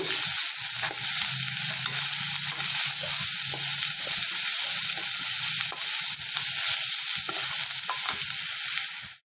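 Radish pieces frying over high heat in a pan for a dry curry, a loud, continuous close sizzle with occasional clinks and scrapes as they are stirred, with no talking.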